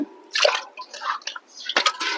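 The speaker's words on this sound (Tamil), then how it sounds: "நல்லா தண்ணி நல்லா நிறைய ஊற்றி கழுவிக்கங்க" Water splashing and dripping as fish soaked in salt and turmeric is rinsed in plenty of water, a close, irregular series of wet splashes and trickles with no talking.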